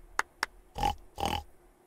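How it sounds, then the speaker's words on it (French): A few short snorty grunts followed by two longer, louder oinking squeals, close by, with no talking. "Un petit cochon."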